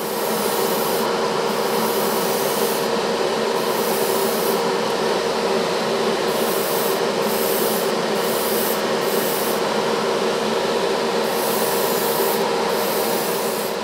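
A steady airbrush spraying diluted isopropyl alcohol weathering wash onto an HO scale model boxcar hisses continuously up close, a smooth spray of air with a faint rhythmic pulsing underneath.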